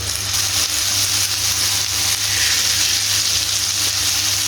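Chicken seekh kebabs frying in a pan, turned side to side as they cook, give a loud, close, continuous sizzle with a steady crackling hiss and no voices.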